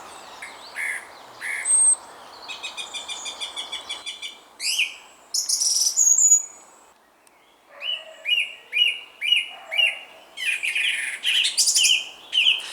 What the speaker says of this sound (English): It's just so peaceful and so beautiful, so many shades of green, so much bird song.